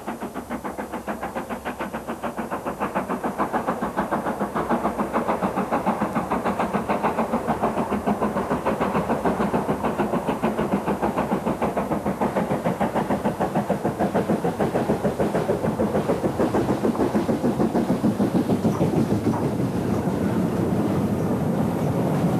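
Steam locomotive 70,000 running on the Settle and Carlisle line, a steady rumbling engine and rolling train noise that grows slightly louder and continues throughout with no talk.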